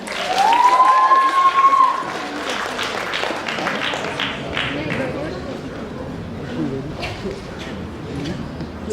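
Audience applause greets a contestant walking on at the grand final of a university beauty pageant, a steady wash of clapping through the hall after a host's voice rings out briefly at the start.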